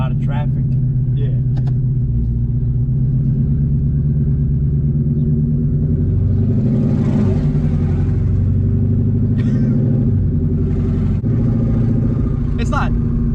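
Twin-turbo Ford Mustang engine rumbling loudly while driving through traffic, with a heavy low drone that swells as it revs; people talk over it inside the car.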